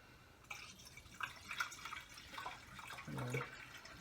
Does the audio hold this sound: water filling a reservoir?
yes